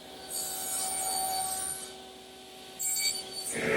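A table saw with its blade set low cuts shoulders on a tenon, giving two close, rasping passes through wood separated by a short lull.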